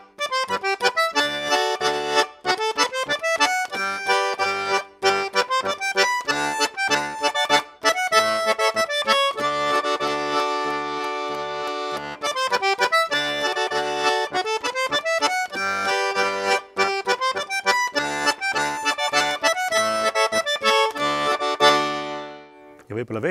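Lõõts, the Estonian button accordion, plays a Põlva polka with added harmony, a busy bouncing rhythm carried by steady chords and bass from start to finish, loud and close, with no talk over it.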